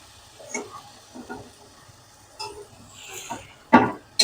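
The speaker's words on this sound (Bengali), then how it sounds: "এবার আমি দিয়ে দিচ্ছি পুঁশাক শাক পেটে এবার আমি এগুলোকে সবগুলোকে একসঙ্গে মিশে নেব" A spoon stirs Malabar spinach with fried ground grain paste in a pan, giving a few soft, scattered scrapes and wet shuffles, ending in a sharper clatter.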